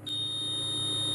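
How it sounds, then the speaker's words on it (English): Fever alarm on a thermal imaging temperature-screening camera at a UK airport, a steady high-pitched electronic tone that starts abruptly and holds loud and unbroken over a low hum. "And that's the alarm sounding, alerting staff."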